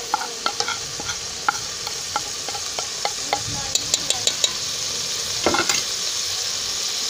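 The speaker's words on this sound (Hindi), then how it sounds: "इसको अच्छी तरह से ऐसे हम फ्राई करेंगे।" Spices for chicken shorba frying in a pan under a soft steady sizzle, with a spoon scraping and tapping in regular strokes, close by.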